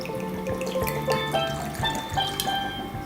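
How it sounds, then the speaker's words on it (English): Rum pours and splashes into a bowl close by, a gurgling stream with small drips and clinks, no speech. "pour the rum"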